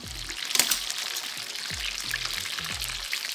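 Chicken parm cutlets fry in hot oil with a steady, close crackling sizzle, broken by a few low thumps and clatters of handling.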